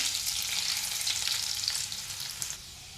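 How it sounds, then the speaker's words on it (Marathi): Steady, dense sizzle of garlic cloves and cumin frying in hot oil, loud and continuous throughout with a slight drop near the end; no voices. "हे बघा लसूण अशी छान भाजू द्यायची"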